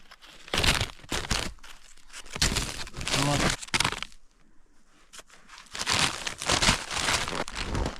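A plastic bag crinkles and rustles in loud bursts during outdoor trapping in Alaska, with short pauses between the crackly handling noises.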